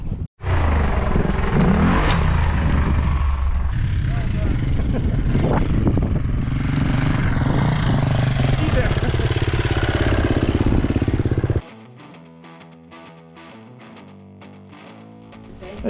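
Enduro motorcycles of 250cc and 350cc run loud and close on an Algarve trail, engine noise steady and distorted for most of the stretch before dropping to a quieter, choppier drone; speech 0.42 tagged but no clear talk.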